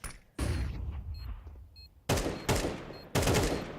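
Gunfire on the Inferno map in the video game CS:GO, a sharp opening shot with a decaying tail, then three loud, crisp shots spaced about half a second apart, close and alone.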